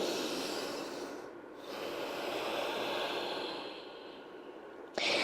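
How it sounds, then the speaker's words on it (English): A slow, airy breath pushed out through the lips during a deep yoga stretch, a soft hiss that swells and fades over several seconds before a sharper intake at the end. "I'm exhaling it out a little bit through my lips"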